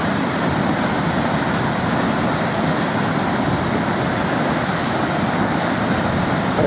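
Rain-swollen water pouring over a small dam, a loud, steady, close rushing roar that fills the whole stretch with no pauses and no voices.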